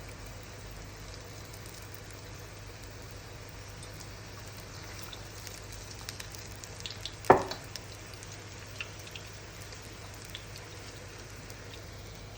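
Poornam boorelu fry in hot oil, a soft, steady low sizzle with faint bubbling and one sharp clink of a stirring spoon midway, no voices.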